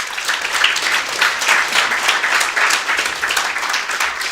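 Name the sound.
audience applause for the first discussant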